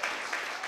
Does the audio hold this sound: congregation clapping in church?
yes